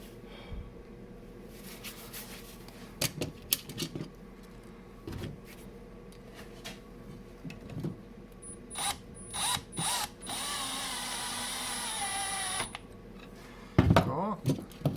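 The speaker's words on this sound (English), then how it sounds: "Let's get the second screw back in." A screw is driven back into a Vevor rolling mill during a gear modification, with short bursts of a power driver whirring and ratcheting, clicks and metallic handling noises between them, and a louder sustained run near the end.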